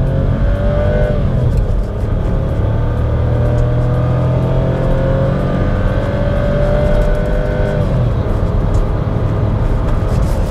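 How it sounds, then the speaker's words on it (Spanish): A Volkswagen Nivus with a 1-litre three-cylinder turbo engine accelerates hard from 0 to 100 km/h, its engine note loud and steady, rising in pitch through the gears, with a brief dip around a shift and no talking. "Lo primero que va a hacer es la aceleración. Vamos a ver cómo nos va de 0 a 100. Acelero."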